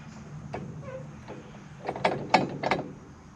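Ratchet wrench tightening an intermediate shaft on a New Holland 1412 mower conditioner, a few close metallic clicking strokes and clunks in quick succession over a low background hum.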